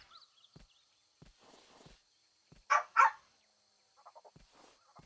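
A dog in the game Tomb Raider 3 gives two short, close barks, with faint padding footsteps and soft thumps spread around them in an otherwise quiet space.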